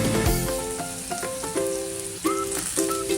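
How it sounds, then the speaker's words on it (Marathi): Whole spices tempering in hot oil crackle and sizzle in a dense, continuous hiss, with sharp pops scattered throughout and background music tones underneath. "परत आपण फोडणी घालूया."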